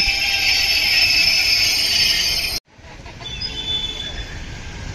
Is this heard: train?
yes